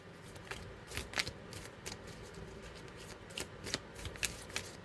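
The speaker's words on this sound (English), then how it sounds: "A little shuffle." Tarot cards being shuffled by hand, a quiet run of crisp riffling flicks and soft slaps in an uneven rhythm, close to the microphone with no talking.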